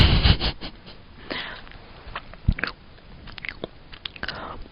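Sheets of colored origami paper bitten and chewed right up at the mic, with crisp crunching bites and moist chewing coming in an uneven rhythm, plus a few sniffs in between.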